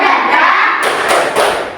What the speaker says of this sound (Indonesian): Tapi sebelumnya kita tepuk semangat dulu dan dingdung.